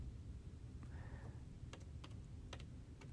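Faint clicks from a computer keyboard as a title is typed into a search, a few sparse keystrokes spread over a steady background hiss, with no talking.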